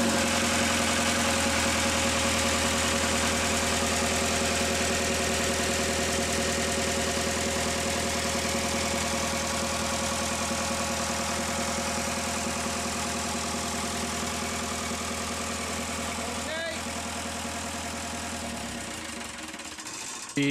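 Inboard engine of a Swedish-built steel ketch idling at a steady, even chug with a constant low drone and slight knock, close and continuous, tapering slightly at the end with no voices.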